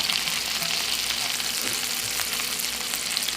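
Meatballs sear in a hot pan on medium-high heat for spaghetti and meatballs, giving a steady, close, dense sizzle with small crackles and pops throughout and no talking.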